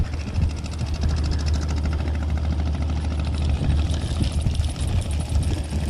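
A boat's engine drones steadily as a vessel arrives on the open sea near the Andaman Islands, a loud continuous low throb with a rapid mechanical pulsing laid over it.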